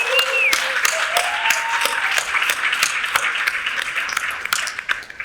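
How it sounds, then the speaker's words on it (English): An audience at a panel discussion applauds the sponsors and speakers, with individual claps audible in a moderate, scattered round, along with faint electronic tones and some background voices. "please, everybody give a warm round of thank you, applause for the sponsors and speakers"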